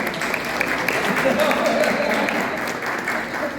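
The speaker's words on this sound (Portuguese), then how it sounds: "dê uma salva de palmas aí, Jesus." A church congregation applauds during a Sunday service, giving steady, dense clapping from a crowd that carries on for several seconds over a murmur of voices.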